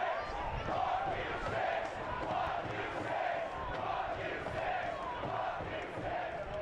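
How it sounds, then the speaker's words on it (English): Stadium crowd at a Detroit City FC versus Lexington SC USL Cup soccer match, a steady, dense roar of many voices with chanting swells rising and falling throughout. "Crowd making their feelings known right now as well."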